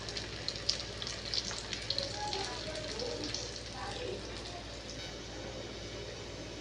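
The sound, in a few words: paratha frying in oil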